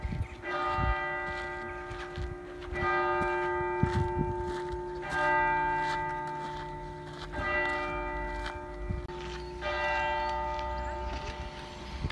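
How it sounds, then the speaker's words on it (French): Church bells ring repeatedly from a church behind trees near a castle, a steady clanging peal with rich sustained tones lasting throughout, fairly loud and with no talk over it. "Et en plus on arrive à voir les cloches, alors si ça c'est pas un timing parfait"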